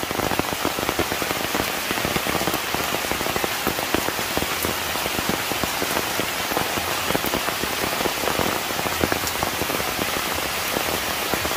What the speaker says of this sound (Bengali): বৃষ্টি বাইরেই চলতেছে, বাইরেই চলতেছে।